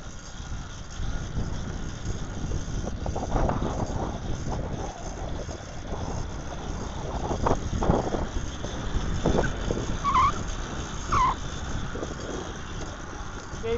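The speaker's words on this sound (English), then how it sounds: "so there's a lot of wind" Steady, heavy wind buffets the microphone while riding a Kent adult folding tricycle outdoors in Louisiana, a continuous loud low rumble with gusts throughout and no speech.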